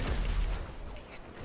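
Gunfire rattles in GTA 5 during a fight against an enemy in a helicopter, a quick burst of low, muffled shots. Players shout over it.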